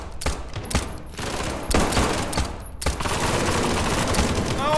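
Dense, loud bursts of automatic gunfire and rapid shots in the tactical shooter SCP 5K, overlapping in near-continuous volleys with sharp cracks throughout.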